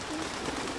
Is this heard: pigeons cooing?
yes